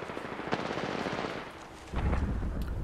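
Rapid automatic gunfire from an Apex Legends match rattles in dense bursts, loud and close, with a heavier low thump of shots toward the end and no voices.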